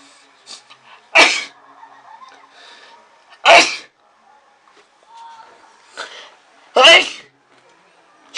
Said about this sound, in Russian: Я чихнул.